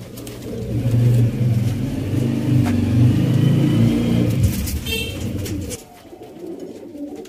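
Sialkoti pigeons coo close by while a car engine revs steadily underneath, the noise cutting out abruptly near the end.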